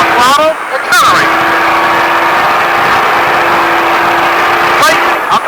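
Baja truck engine accelerating at a Las Vegas driving venue, a steady droning engine under constant wind-like noise, with a sharp transient near the start and another near the end.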